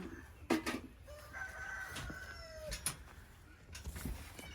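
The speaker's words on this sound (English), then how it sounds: "So many birds right now." A rooster crows outdoors in a garden among other birds: a faint, distant drawn-out call with several short bird chirps and clucks scattered through the quiet background.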